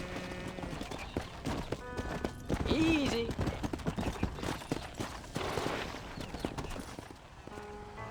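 Horse hooves clip-clopping at a steady walk in the Red Dead Redemption video game, close and rhythmic, with a brief whinny and someone speaking quietly over the hoofbeats.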